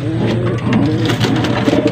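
Several pigeons coo repeatedly at close range, low throaty calls overlapping in a steady rhythm against a faint background hum, at a racing pigeon loft in Santa Maria, Isabela.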